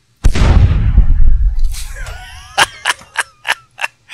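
A ship's weapon fires in Space Engineers, aboard a UNSC-style mini fleet vessel: one loud, close boom with a rolling rumble, then a string of sharp, evenly spaced clicks and cracks.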